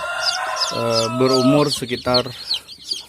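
Ayam ketawa chicks a few days old, in a foam box, give rapid, high, thin peeps over and over, close by, while someone talks.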